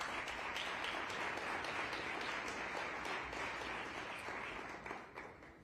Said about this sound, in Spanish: Un fuerte aplauso para que nos presente la película.